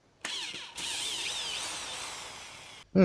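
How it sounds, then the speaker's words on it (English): A mechanical whiz car horn in Forza Horizon 5: a high whirring, warbling mechanical whine with wobbling pitch sweeps, loud and steady for about two seconds, cut off by a brief thump at the end. "the mechanical whiz car horn, which sounds a bit like this"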